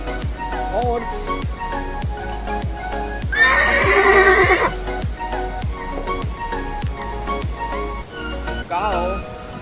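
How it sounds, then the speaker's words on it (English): A horse whinnies loudly for about a second with a rising and falling tremolo, amid farm-animal sounds and a steady beat, with a second shorter neigh near the end. "Horse."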